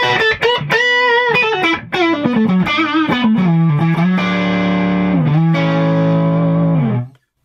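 Electric guitar played through a Friedman JJ Jr 20-watt head on its dirty channel, giving a warm saturated overdrive: a run of sustained distorted notes and chords, loud and close, ending on a long ringing chord that cuts off.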